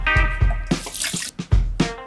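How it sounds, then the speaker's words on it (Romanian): Hands being washed under a running tap at a kitchen sink while preparing Romanian meatball soup, with close splashing and dripping water in short bursts and gaps, no talk. "Mă duc să mă spăl pe mâini"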